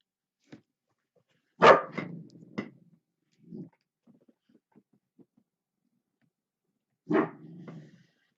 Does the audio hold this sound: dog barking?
yes